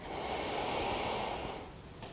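A long, steady inhalation during a yoga breathing exercise, close and audible as a soft airy rush that swells and then tapers off, with no talking over it.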